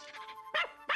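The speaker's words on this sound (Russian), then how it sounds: "Собака." A dog gives a few quick, fairly quiet barks: a softer yipping run followed by two sharper, louder barks spaced about a third of a second apart, with no other sound around them.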